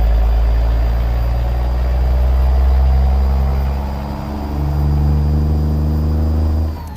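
A truck engine in American Truck Simulator drones loud and steady, a low rumbling hum that revs and eases, dips briefly midway, then climbs again before cutting off near the end.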